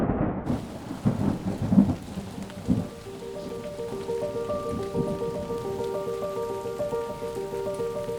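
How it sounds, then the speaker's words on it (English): Heavy morning rain pours steadily on the Overland Track in Tasmania, with rolling thunder rumbling through the first few seconds before a low, even hum settles in under the continuous downpour. "the morning started with heavy rain"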